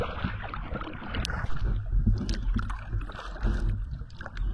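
A kayak is paddled downstream on a river, with rhythmic splashes and water swishes from the paddle strokes close by, mixed with gurgling water and light wind buffeting.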